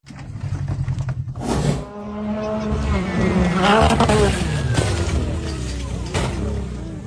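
A black off-road buggy's engine labours up a steep hill during a 4x4 hill climb, loud and near, its revving rising and falling with rough, strained bursts and some tyre scrabble.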